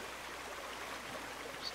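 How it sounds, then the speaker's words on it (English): Underground spring water runs steadily in a survival video game, a soft continuous trickling hiss at low level throughout, with no talking. "This must be an underground spring."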